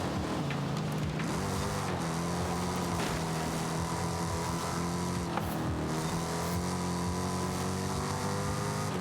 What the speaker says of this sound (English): Sounds like it's, and revs like it's got a full kind of fat V8 in it.